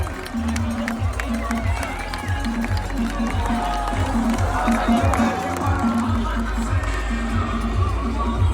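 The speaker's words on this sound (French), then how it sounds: "Let's make some noise for the pros making their way into the start zone." A crowd at the start of an Ironman 70.3 triathlon in Mont-Tremblant cheers and claps for the professional athletes entering the start zone, with a steady rumble of noise and a pulsing low beat under a speaker's amplified voice.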